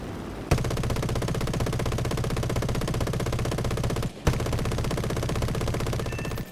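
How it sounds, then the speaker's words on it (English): A .30 cal machine gun in War Thunder fires a long, rapid, steady burst of shots, breaks off for a split second, then opens up again in another sustained rattling stream. "God, I love the 30 cal sometimes."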